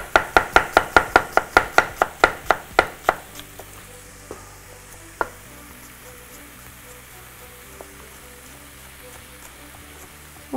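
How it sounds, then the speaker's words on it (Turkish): Knife chopping ingredients for Uzbek pilaf on a cutting board: a fast run of about a dozen sharp, evenly spaced chops for three seconds, then scattered lighter taps against a soft background. "Bunları da parçaladık güzelce."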